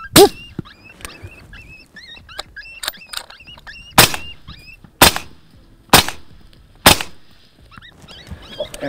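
Four or five sharp, loud rifle cracks ring out about a second apart while hunting coyotes in Colorado, with an electronic distressed-animal call squealing faintly underneath.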